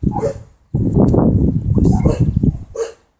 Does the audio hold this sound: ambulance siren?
no